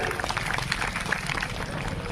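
An audience at a couple's conference gathering claps in a steady patter of applause, moderately distant, with a murmur of voices underneath.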